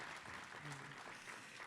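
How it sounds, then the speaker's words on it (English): At a 2019 gala in Chicago, an audience keeps up a faint, distant wash of applause, soft and continuous, with a little voice activity underneath. "I'd hoped you'd keep up the applause all the way up here as I slowly..."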